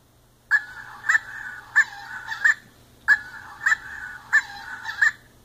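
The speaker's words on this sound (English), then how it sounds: "So, this particular bird is a brown pelican" A brown pelican call plays from an Audubon Society plush toy, a short run of harsh honking, squawking notes in two repeated bursts, fairly loud and close, over a faint steady low hum.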